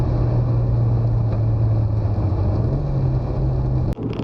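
Loud, steady engine drone and road rumble from inside a moving Subaru Impreza 22B, with a low hum holding throughout and a brief click near the end.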